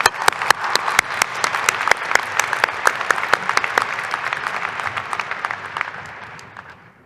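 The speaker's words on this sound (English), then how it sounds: "Let's give them a round of applause." An audience at a university commencement ceremony claps, a loud burst of sharp, crisp handclaps that gradually thins and fades over several seconds, with no speech.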